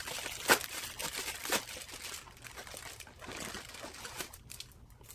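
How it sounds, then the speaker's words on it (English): Crinkling plastic as a cosmetics glam bag is opened and unpacked, irregular rustles and crunchy bursts close to the microphone, moderately quiet with no voices. "let's unbag this"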